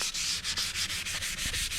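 Hand sanding of car body paint with 320 grit sandpaper before 2K filler primer, a steady run of quick rhythmic back-and-forth scuffing strokes, close and moderately quiet with no voices.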